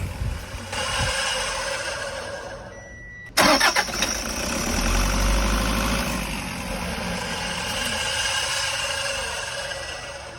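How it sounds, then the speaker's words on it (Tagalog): A Toyota HiAce van's 1KD diesel engine hisses steadily after shutdown, with a sharp click partway through, after which the broad hissing noise carries on without pause. "may yung naririnig natin na parang sumisingaw"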